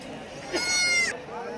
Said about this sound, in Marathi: या कोठा जातीच्या दोन शेळ्या आहे